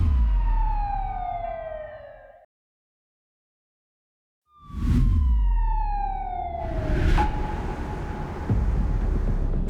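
An emergency siren wails in long falling sweeps over road traffic, cutting out for about two seconds before starting again loud and close, with a steady low engine rumble underneath.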